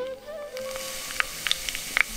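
Hot oil sizzles softly and steadily, with occasional small pops and crackles as fennel seeds and curry leaves fry.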